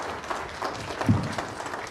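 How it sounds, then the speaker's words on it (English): An audience claps briefly at a World's Fair anniversary party as a speaker arrives on stage, a short, dense patter of applause at moderate level with no one speaking over it. "Without further ado, please give a round of applause for Bill Rancic."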